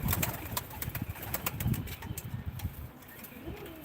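Arab-capped pigeons at a pigeon auction in Ankara give low cooing calls, with a flutter of wings and scattered clicks and taps from the flock close by, moderately quiet in a busy room.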